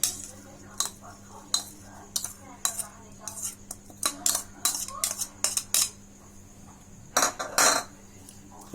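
A spoon stirring and mixing a spiced dish with coriander in a metal pot, sharp irregular clinks and scrapes against the pot in quick bursts over a quiet kitchen hum, no talking.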